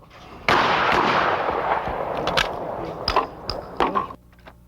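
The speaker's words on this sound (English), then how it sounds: "Josh Richmond specializes in shooting double trap." Shotgun blasts at a double trap shooting range echo out, a loud initial boom followed by several sharper cracks near the end, with no talking.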